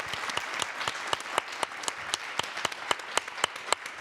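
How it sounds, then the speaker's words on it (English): Applause from an audience for panelists at a climate resilience event, made up of distinct individual claps in a steady rhythm from a small group, close and moderately loud throughout. "I'd like to invite the audience to give our panelists a round of applause"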